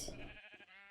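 A short sheep bleat in a blocky survival video game at a savanna base: one close, wavering call that fades quickly, with no voices.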